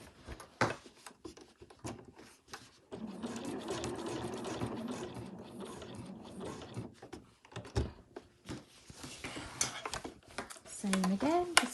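A domestic sewing machine runs a steady seam through all the layers of an overlocker cover, humming for a few seconds before stopping. Brief clicks and a speaking voice come before and after the stitching.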